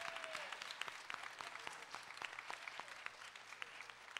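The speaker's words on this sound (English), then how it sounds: "So let's give them another hand clap of praise." Church congregation applauding after a baptism, steady clapping with sharp individual claps standing out, fairly faint and distant with a little talk beneath.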